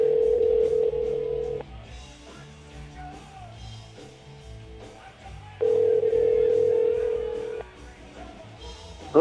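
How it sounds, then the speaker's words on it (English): Steady telephone ringback tones sound during a call to a radio show guest. Two long, loud, even buzzes are separated by a quieter stretch with softer tones and a faint low hum. "let's go ahead and make a phone call."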